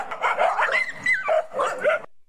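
A dog in a played-back recording of wolves and an alpha roll gives a rapid series of yips and barks with whining, whimpering tones, close and fairly loud, ending abruptly.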